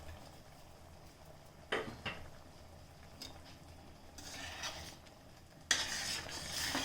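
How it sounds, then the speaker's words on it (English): Metal spoon scraping and clinking against a pot while stirring knol khol kootu, a thick vegetable side dish, with faint bubbling underneath and a louder burst of scraping near the end, close and without voices. "Give it a nice mix"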